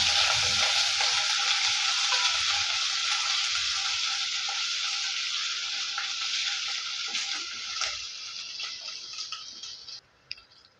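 Crushed ginger, garlic and shallots fry in oil with mustard seeds and fenugreek for a fish curry, giving a steady bright sizzle that eases slightly toward the end, with faint stirring ticks.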